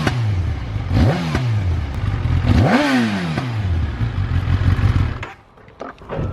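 A stock titanium exhaust on a 2016 Kawasaki ZX-10R is blipped in two sharp revs, each rising quickly and falling back to a burbling idle, loud and close, with no talking over it.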